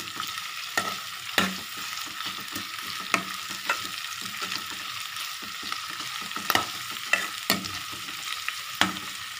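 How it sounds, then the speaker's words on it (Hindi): Green chillies sizzle steadily in a hot pan, with scattered scraping and stirring clicks over the frying noise. "इसको भी थोड़ा हल्का फ्राई होने देते हैं"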